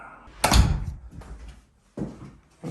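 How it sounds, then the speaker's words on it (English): A newly installed DIY door, sealed with spray foam, is closed with a sharp, loud thunk and rattle, followed by quieter handling knocks and two further bumps. "There's the door."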